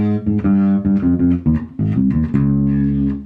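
A bass guitar plays a run of eight notes through a major-scale line, the root, third, fifth and fourth followed by the next phrase, each note clear and sustained with no talking over it.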